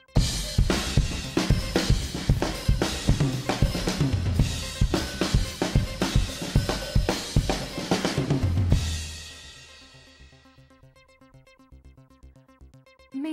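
A full drum kit played hard and fast, with busy cymbal crashes and pounding toms and kick, ending in a long ringing cymbal decay.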